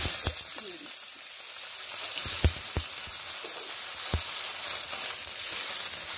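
Potatoes frying in oil with green chilies and tempered nigella seeds for a ridge gourd dish, a constant hiss of sizzling broken by a few sharp clicks of a spatula against the pan, close by and unvoiced.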